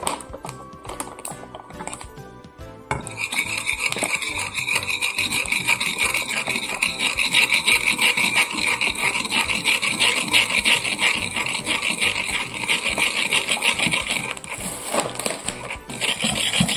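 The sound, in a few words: mixing and beating henna powder paste in a bowl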